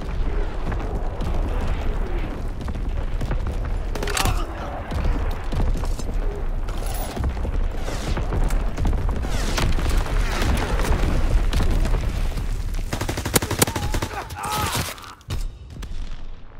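Artillery fire and explosions in Call of Duty WWII, a dense, loud rumble of booms and blasts that runs almost without pause, with sharper cracks scattered through and a voice now and then.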